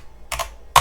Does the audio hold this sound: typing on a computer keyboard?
yes